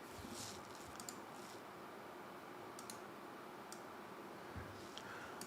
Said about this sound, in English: You guys can see what I'm typing today.